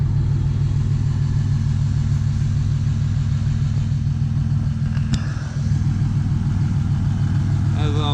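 A 2014 Dodge Ram 2500 with a six-speed manual sits idling, its exhaust giving a steady deep rumble that stays loud and even, with a short click and slight dip near the middle.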